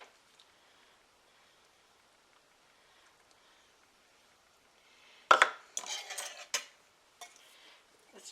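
A utensil clinks and scrapes in a bowl while mixing hot fudge chocolate pudding cake batter with milk and salt, starting after about five seconds of near silence and continuing in short, irregular bursts.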